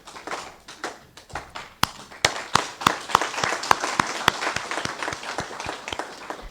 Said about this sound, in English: we can give them a standing ovation as we clap hands for them